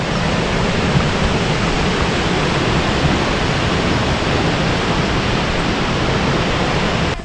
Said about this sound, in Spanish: Y lo más hermoso del mirador, la cascada. Vean qué imponente cascada